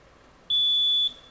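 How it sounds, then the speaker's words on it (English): A quiz tournament buzzer ringing in, one steady high electronic tone lasting about half a second against a quiet room. "please ring in with your buzzer"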